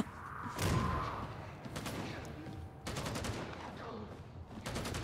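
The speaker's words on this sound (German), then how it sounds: "Ich schieße auf etwas und es platzt." Gunfire in the video game Warhammer 40,000: Darktide, several bursts of rapid shots with sharp cracks and impacts over game ambience and effects, moderately quiet.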